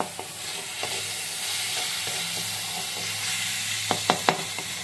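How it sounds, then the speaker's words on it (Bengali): Salted chicken and vegetables for a chicken bowl being stirred in a hot pan, a soft continuous sizzle with a few sharp spatula scrapes and taps near the end, no voices. "ভালো করে মিক্সিং করে নেব।"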